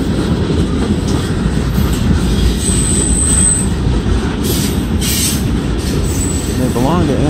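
Norfolk Southern freight train with hopper cars rolling past up close, a loud continuous rumble of wheels on rails with faint squeals and clatter throughout.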